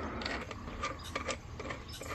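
A wrench ratchets wheel nuts tight on the front hub of a fat tire electric bike with dual 1000W motors, giving quiet clicking and mechanical ticking in short bursts.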